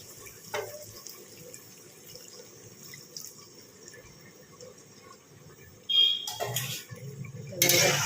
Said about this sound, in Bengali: এটাকে ধুয়ে এবার মধ্যে জল দিয়ে দেবো